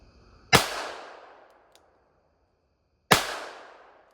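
Two sharp, loud shots from an Escodin Model 31 .38 Special revolver firing 156 grain lead round nose rounds into a pumpkin outdoors, spaced a few seconds apart, each with a short decaying ring.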